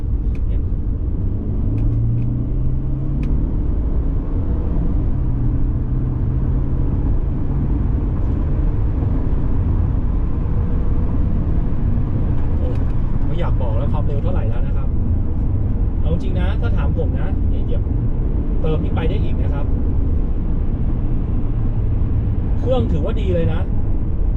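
A 2012 Mercedes-Benz E200 CGI AMG with a 7-speed automatic, switched to sport mode on a test drive, holds a steady low engine and road rumble heard from inside the cabin, with someone talking over it throughout.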